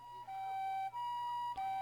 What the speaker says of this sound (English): I can hear ambulance sirens in the distance on the other side of the bridge